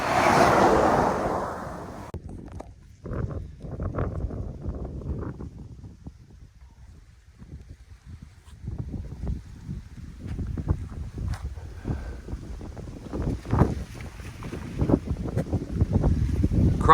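Gusty wind buffets the microphone during a hike across Three Lakes Wildlife Management Area on the Florida Trail, rising and falling in rough rumbling bursts with a strong blast at the start.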